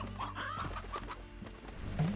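Soft chicken clucks from the video game Slime Rancher over a constant low musical hum, faint and close, with no talking.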